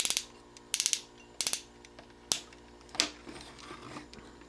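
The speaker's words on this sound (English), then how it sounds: "ratcheting hips that are very loud ratchets, and they do ratchet outward as well" Loud plastic ratcheting from the hip joints of a Transformers Age of Extinction Leader Grimlock toy in dinosaur mode, several quick clicking bursts in separate clusters, close up with no talking.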